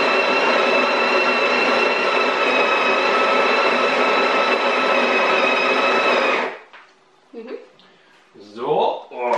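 A coffee machine grinds beans in a loud, steady, whirring burst lasting about six seconds, then cuts off, followed by faint clicks and a person speaking quietly nearby.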